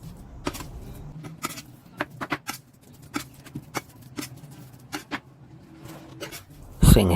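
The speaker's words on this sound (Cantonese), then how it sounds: "用刀將佢剁勻" A cleaver chops seasoned minced pork on a cutting board in a home kitchen, sharp irregular thwacks spaced a fraction of a second apart over a quiet background, ending in a louder clatter.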